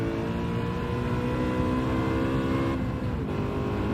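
A race car engine in Gran Turismo 7 holds a steady, loud, high-pitched drone against the rev limiter, with a brief dip just before the three-second mark.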